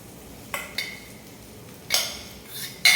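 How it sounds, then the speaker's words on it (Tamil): Cooked rice is stirred into tamarind paste for puliyodharai, a handful of sharp spoon-on-vessel scrapes and clinks at irregular intervals, close and clear with no talk. "இப்போ நான் எடுத்து வச்சுக்கிறேன் இந்த சாதத்தை போட்டுட்டு கலந்துக்கிறேன்."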